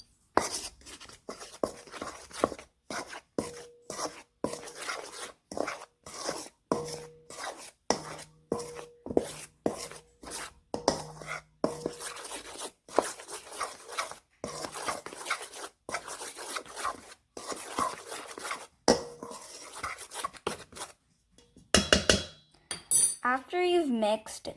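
A spoon scrapes and clinks repeatedly against a bowl while mixing flour and baking soda for banana bread, a steady run of close, sharp taps and scrapes, with a brief louder clatter near the end.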